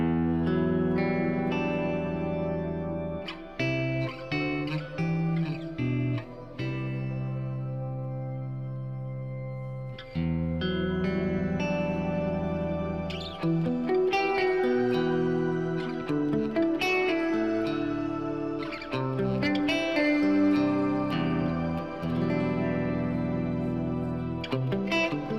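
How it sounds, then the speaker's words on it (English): Guitar played through a Boss GX-100 processor with shimmer reverb, chords ringing out into a bright, swelling wash of effected tone with pauses between phrases. "I like to get like a shimmer sound like that, and then add the reverb afterwards."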